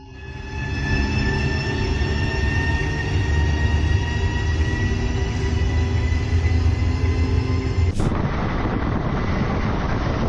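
A 12,000 horsepower freight locomotive works hard nearby, its engine holding a loud, steady roar with sustained tonal whine from the running gear, cutting off abruptly near the end.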